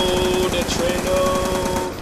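Sustained automatic gunfire from a video game, Black Ops 2 Zombies on the Nuketown map, fires in a fast, loud, continuous rattle of shots with a ringing tone throughout, up close.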